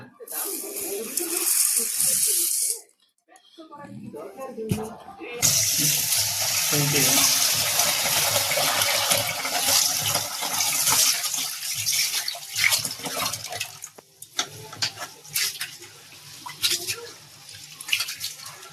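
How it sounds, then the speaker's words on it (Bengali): Rice and lentils being rinsed under a running kitchen tap: a steady gush and splash of water, cut off briefly near the start, then resuming loudly with sloshing and dripping. "ভালো করে ধুয়ে এগুলোর পানি ঝরাইয়ে নিতে হবে"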